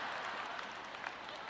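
Audience applause from a congregation at a French-language Christian ministry event, a steady dense patter of clapping at moderate distance with no voices over it.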